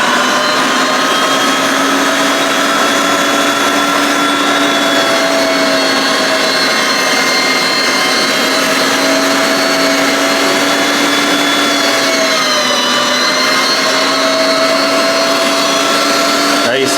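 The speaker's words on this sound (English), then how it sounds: "We're gonna put this underneath our grinder. And we're gonna start grinding up our meat." A meat grinder runs with a loud, steady motor whine while grinding pork for sausage, droning continuously close by with only a slight shift in pitch partway through.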